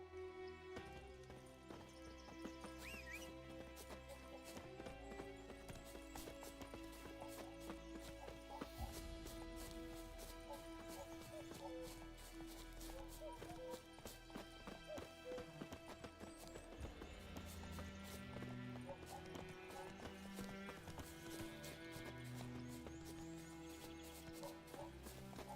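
Horse hooves clip-clop steadily toward the listener in The Witcher 3, with a whinny amid in-game music and ambient game sound throughout.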